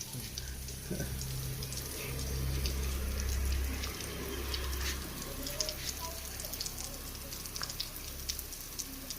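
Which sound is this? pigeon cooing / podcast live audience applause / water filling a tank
water filling a tank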